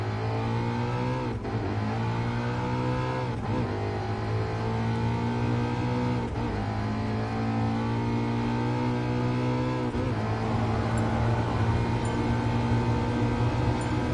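A 2015 Ford Mustang engine in Gran Turismo Sport drones steadily, rising and falling through gear shifts with brief dips every few seconds, loud and continuous with no talk.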